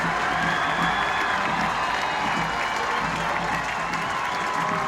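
A football stadium crowd at the 2018 Wurstbowl cheers and applauds as a loud, continuous roar of clapping and shouting that holds steady throughout.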